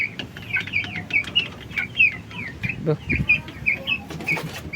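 Month-old chicks on a small farm clucking and cheeping close by in repeated short calls, with a few low knocks and rustles underneath.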